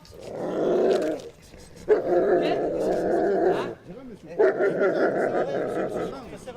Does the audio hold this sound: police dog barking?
yes